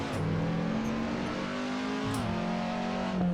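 A race car engine in Assetto Corsa accelerating through the gears on a hometown track, loud and close, pitch climbing steadily then dropping at each shift before rising again.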